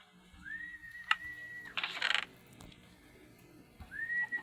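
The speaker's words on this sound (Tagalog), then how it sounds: "Kasi nga po, tinatawag yung kalapate. Yan, sumisipol tayo." A person whistles to call pigeons, giving a clear sustained whistle followed after a pause by another, with faint clicks and a short burst of noise between them.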